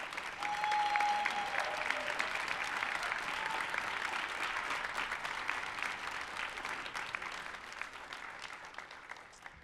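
Sustained applause from an audience at a city awards ceremony, steady and full for the whole stretch, with a faint voice calling out briefly near the start.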